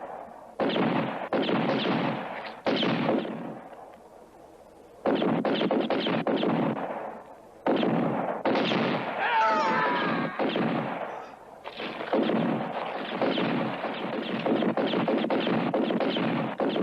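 Gunfire in a western film, a dense volley of loud rifle and pistol shots in bursts with brief pauses between them, close and continuous over the scene.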